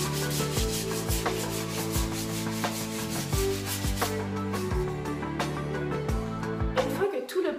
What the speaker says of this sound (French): c'est bien important de le poncer pour que ça soit lisse